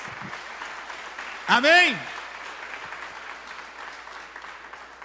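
A church congregation applauds for Jesus during a sermon, a steady wash of clapping running under a voice that calls out once with a rising, sung inflection.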